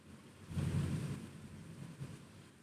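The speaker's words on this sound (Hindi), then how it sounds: "आज जैसे लग रहा है आंधी तूफान के साथ में बारिश भी आया है" Wind-driven rain roars outside during a storm in Kolkata, a broad rushing wash that swells loudly early on, then settles into a steady blustery hiss with a brief gust near the end.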